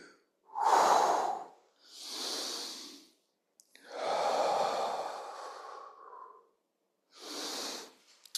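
A person breathes deeply and slowly during a rotating stretching exercise, four long audible inhales and exhales separated by short pauses, close and fairly quiet with no talking.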